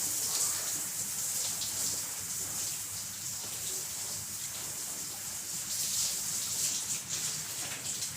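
Steady rain falling, a continuous soft hiss that stays even throughout with no voices.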